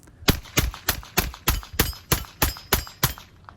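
Ten sharp shots from a small Ruger LCP II .22LR pistol crack out at an even, unhurried pace, each a close, loud snap with a short ringing tail.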